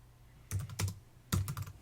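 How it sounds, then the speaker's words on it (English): Someone types on a computer keyboard: quiet, close key clicks come in two short bursts separated by a brief pause. "and then you type"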